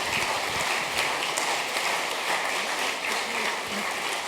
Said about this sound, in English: Please, can we give them a round of applause as they take to their seat?